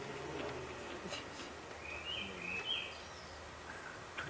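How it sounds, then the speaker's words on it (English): Bright, warbling bird song at moderate distance, a couple of short phrases over a steady outdoor hiss with faint low rumble. "I think it's a robin."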